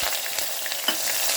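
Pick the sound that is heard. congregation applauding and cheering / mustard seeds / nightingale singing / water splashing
mustard seeds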